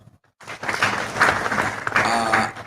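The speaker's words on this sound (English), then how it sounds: "Another round of clap." Conference hall audience at a Sacco regulatory policy roundtable breaks into applause after a brief silence, clapping swelling and continuing loudly and close, with murmurs of crowd mixed in.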